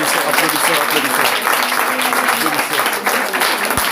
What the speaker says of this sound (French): Applaudissons pour notre Seigneur Jésus.